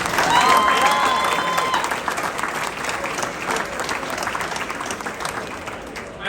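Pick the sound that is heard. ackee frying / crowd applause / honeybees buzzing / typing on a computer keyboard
crowd applause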